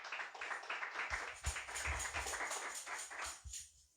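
A church congregation claps together in rhythmic bursts during a sermon, the applause lively and fairly close, fading out toward the end.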